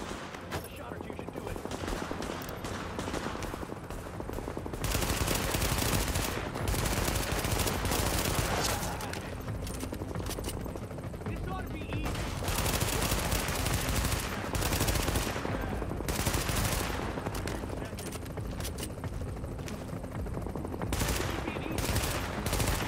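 Gunfire rattles almost without pause in a firefight in the video game Tom Clancy's The Division, loud automatic bursts layered over dense combat noise, with voices talking now and then.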